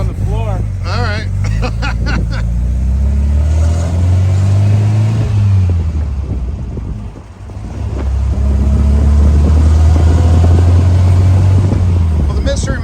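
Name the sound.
race car engine revving during a ride-along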